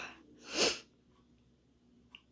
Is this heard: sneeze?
yes